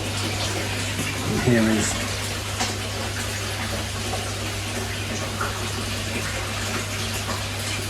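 Water splashes and patters steadily from a koi pond shower filter outdoors in autumn, a continuous broadband rush with a low steady hum beneath it, while someone speaks briefly near the start.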